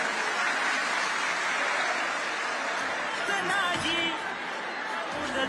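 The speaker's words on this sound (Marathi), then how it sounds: "मी माझ्या माय भगिनींना दादांचं टाळ्या वाजून अभिनंदन करावं त्यांचं स्वागत करावं अशी देखील विनंती करतो" A rally crowd in Talegaon applauds Ajit Dada, a steady dense wash of clapping and cheering that fills the whole stretch, with faint whoops rising near the end.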